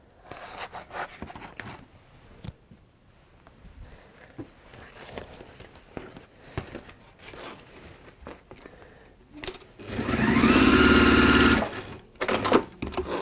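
Electric sewing machine stitching through fabric, a steady close mechanical whir in one continuous burst of about three seconds after quieter handling and rustling.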